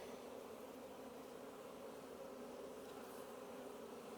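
Honeybees buzz steadily around an open hive frame during an autumn inspection, a dense continuous drone of many wings close by, holding an even level throughout with no voices.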